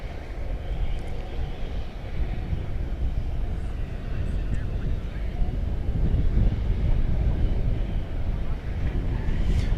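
A three-engined jet airliner taxiing at DFW Airport at night makes a steady, broad low rumble with wind noise on the microphone, holding level throughout and swelling slightly near the end.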